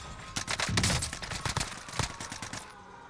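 Rapid volleys of gunfire in Call of Duty: Warzone, a series of sharp cracking shots in quick bursts, moderately loud with no talk over them.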